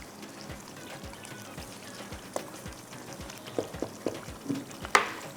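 Chicken pieces sizzle steadily in hot masala while a spoon stirs through them, adding soft scraping knocks and a few sharper clicks toward the end; close and fairly quiet, with no talking.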